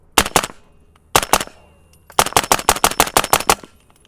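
Suppressed 300 Blackout rifle fire through a SilencerCo Hybrid 46M with 220-grain subsonic ammunition on a range: two quick pairs of sharp cracks, then a rapid string of about nine shots, loud and close.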